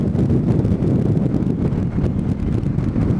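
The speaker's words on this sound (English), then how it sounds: "As I said, it's a very windy day." Heavy, continuous wind roar buffeting the microphone while riding a Yamaha MT-07 motorcycle on a very windy day, loud and rumbling throughout with no breaks.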